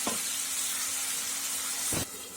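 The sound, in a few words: onions and tomatoes sautéing with salt in a pan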